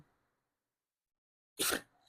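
A single sudden sneeze bursts out close by after a long stretch of near silence, short and sharp with a breathy tail.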